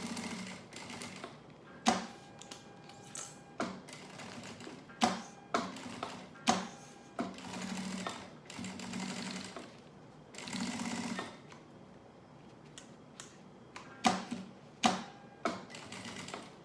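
A sewing machine stitches a rounded corner on a thermal school lunch bag in short, close bursts of rapid mechanical clatter, separated by pauses and sharp clicks as the presser foot is lifted.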